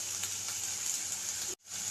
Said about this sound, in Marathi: आपण कांदा तीळ आणि कोथिंबीर याची पेस्ट केली होती तर ती आपण यामध्ये टाकतोय आता तेलामध्ये